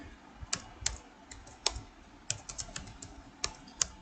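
Someone types Java code on a computer keyboard, with scattered key clicks coming in small uneven bursts, close and fairly quiet, with no talking.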